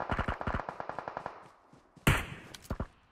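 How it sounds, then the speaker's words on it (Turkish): Automatic gunfire in the PUBG Mobile battle royale game: a rapid burst of about ten close shots, then a pause and a few louder, sharper single shots near the end, with no talk. "Bir yerden bana sıkıyor ama arkadan sıkıyor."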